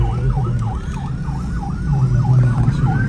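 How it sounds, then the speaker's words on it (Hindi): Ambulance sirens wail in a repeating up-and-down pattern in Islamabad after a suicide attack, loud and close, over a low engine rumble and traffic noise. "ये देखें एम्बुलेंस जा रही हैं, आ भी रही हैं, जा भी रही हैं मुसलसल"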